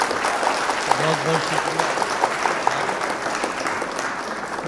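Audience applause welcoming a poet at a mushaira in Bulandshahr, a steady dense clapping throughout with someone speaking briefly over it.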